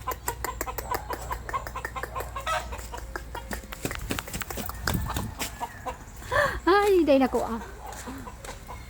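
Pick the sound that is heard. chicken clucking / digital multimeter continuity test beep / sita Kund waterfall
chicken clucking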